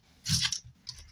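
Dried potato chips give a quick, crisp rattle up close, one short burst followed by a smaller shake.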